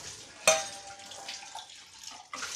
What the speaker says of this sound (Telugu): క్యాలీఫ్లవర్, క్యాబేజీ, గ్రీన్ చిల్లీ వేసుకున్నాక కొంచెం 1/2 కప్ వాటర్ పోసుకొని మూత పెట్టుకోవాలి